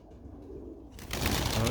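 Pigeons cooing and flying near a breeder's loft, with soft cooing at first and then a sudden loud burst of wingbeats as the birds take off close by.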